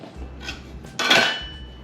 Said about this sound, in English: Now I'm going to use the knife also to pick it up and place it into my pan.